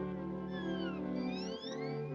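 A cartoon cat meows in a drawn-out, wavering call, near and clear over a soft musical background, sliding up and down in pitch for about two seconds.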